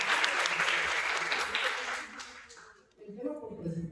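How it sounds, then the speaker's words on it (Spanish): An audience applauds at a panel discussion on social perceptions of autism, with dense, sustained clapping that fades out, then a voice begins speaking. "Un aplauso, por favor."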